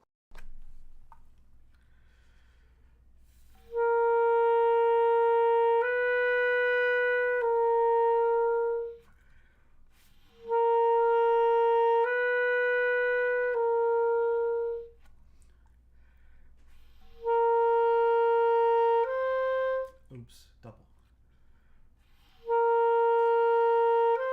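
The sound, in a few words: wind instrument double lip exercise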